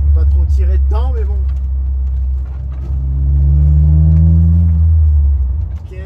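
A BMW E36 323i with a six-cylinder engine hums steadily while driving, its rumble rising and falling as the revs climb and ease, heard from inside the car with someone talking over it at first.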